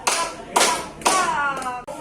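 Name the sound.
hand clapping in a classroom clapping game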